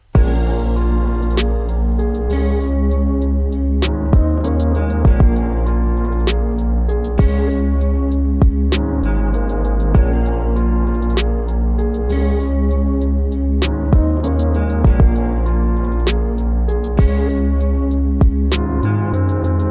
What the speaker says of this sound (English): that entire beat sounds like this